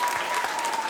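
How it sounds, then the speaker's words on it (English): A group of people clapping together, a short, dense burst of applause close by. "Give yourselves a big clap."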